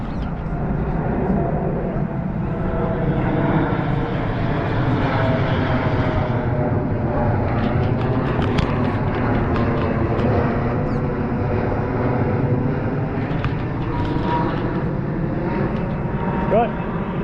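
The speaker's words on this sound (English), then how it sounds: "We've also got a plane coming in as well." An airplane drones overhead during an outdoor protest at Windsor Castle, a broad continuous engine rumble holding steady under crowd noise and nearby talk.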